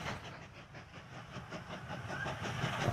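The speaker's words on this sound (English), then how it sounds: "This train's going to come down." A train rolling along in the railway building game Mashinky, a faint steady rumble with rhythmic clickety-clack of wheels on rail joints, slowly growing louder.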